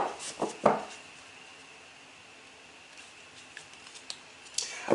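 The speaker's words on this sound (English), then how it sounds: "So let's do a quick shuffle, shuffle," Soft papery flicks and riffles of tarot cards being shuffled, a few quick bursts at the start and end with a quiet hiss between.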